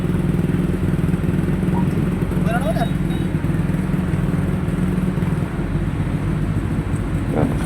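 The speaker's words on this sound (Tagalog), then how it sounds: "pakinggan na lang yung andar niya." SYM motorcycle engine idling steadily after a fuel vacuum hose repair, a constant low rumble close to the microphone with faint background noise.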